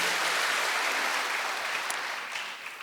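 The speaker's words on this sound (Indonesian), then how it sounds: "Beri tepuk tangan buat istri saya." A church congregation at a worship service applauds in a steady, dense wash of clapping that fades slightly toward the end.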